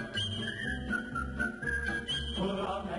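Someone whistles a melodic tune, moderately loud, over a low background bed of music.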